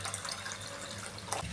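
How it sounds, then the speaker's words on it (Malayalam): Water being poured into a Kerala-style moru curry mixture, a steady soft gushing splash held throughout, fairly quiet and close, with no talking. "ഇതിലേക്ക് കുറച്ച് വെള്ളം കൂടെ ചേർത്ത് കൊടുക്കാമേ"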